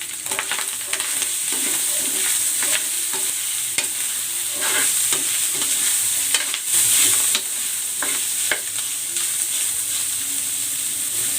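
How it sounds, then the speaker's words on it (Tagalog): Sliced pork belly sautés in a pan for pancit, making a steady, bright sizzle up close with intermittent stirring clicks and scrapes. "Igigisa ko na tong pork."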